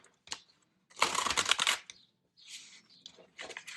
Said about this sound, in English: we're going to shuffle the tarot together.